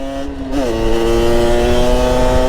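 A loud motorcycle engine idles then rises in pitch as it revs up, a steady droning hum holding at the higher pitch, close and continuous.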